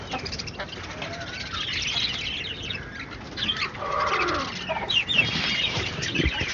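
Country chickens are kept on a rooftop terrace in Chennai, giving irregular clucks and squawks with some wing flapping, close by and fairly loud, while a person talks intermittently in the background.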